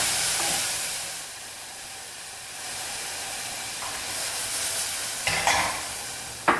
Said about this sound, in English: our pan's nice and hot, and we're just gonna throw in our onions